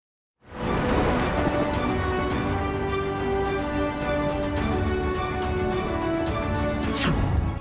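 Heavy monsoon downpour in Banaskantha, Gujarat, a dense, loud, steady roar of rain with no voices, running unbroken for the whole stretch.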